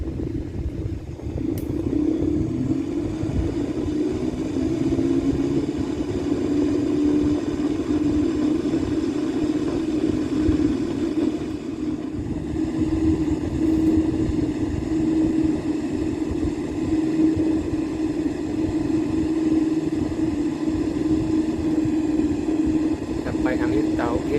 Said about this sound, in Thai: ก็จะพร้อมแล้วก็จะทำการเทคออฟ